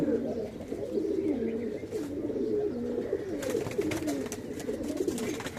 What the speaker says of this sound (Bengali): এই যে কবুতরগুলো নামতেছে